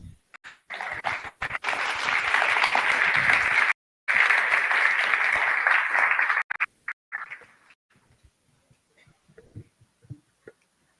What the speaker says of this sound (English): I think that applause was not enough.